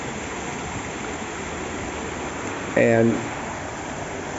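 Storm runoff from a Christmas Eve rainstorm in Athens, Greece, rushing downhill toward Piraeus in a steady, loud, broadband torrent, with someone speaking briefly over it.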